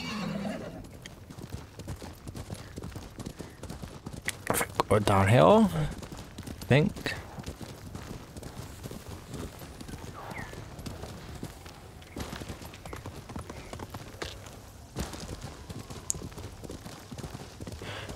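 Horse hooves gallop in steady clip-clop in the Ghost of Tsushima video game, with a loud neigh midway, while a player talks over the ride.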